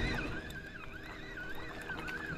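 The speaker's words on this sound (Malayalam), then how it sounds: "ഒരു ബോട്ട് പോയതാണ്ട്, കടലിൽ ഓളമൊക്കെ വരുന്നു." Waves from a passing boat slosh against the hull on the open sea. A steady wash of water sits under a faint, wavering engine whine, with no talk.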